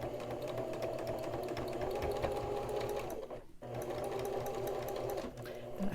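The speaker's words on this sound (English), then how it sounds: "Sew across the end." A sewing machine stitches across the end of a fabric face mask with a steady, close mechanical whirr. It pauses briefly partway through and then resumes, with faint talk in the background.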